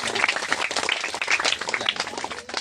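Lively clapping from a group, dense and fairly close, continuing steadily for a couple of seconds.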